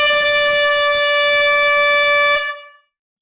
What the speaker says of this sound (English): we'll go ahead and blow this air horn right now.